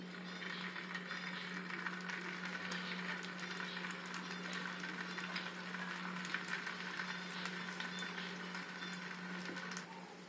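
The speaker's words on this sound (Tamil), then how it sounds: "இது ஒன்று ஒன்றா வறுத்து எடுத்துக்கலாம்" Potato snacks fry one by one in oil on a tava over a low flame: a faint, steady sizzle and crackle goes on the whole time under a constant low hum, with no voices.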